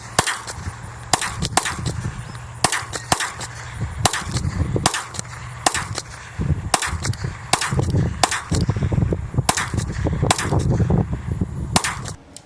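Pistol with a Gemtech Aurora II suppressor firing repeatedly, sharp muffled cracks in quick strings and irregular bursts, loud and close over a low background rumble.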